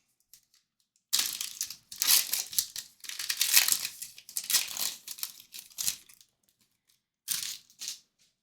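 Foil Panini Crusades baseball card packs from 2025 mega boxes being torn open and their wrappers crinkled, a series of loud, close crackling rips in bursts with short pauses, heard alone without talk.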